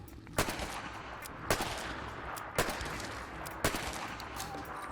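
Four sharp, loud shots from a Bulldog Revolver in a modded Fallout 4 game, fired at a slow, even pace roughly a second apart, with a hissing background between them.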